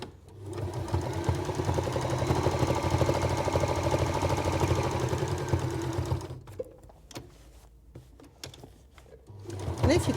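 A sewing machine stitching quilting on old oven gloves, a close, loud, rapid mechanical whir and knock that runs for about six seconds, then stops, then starts up again briefly near the end.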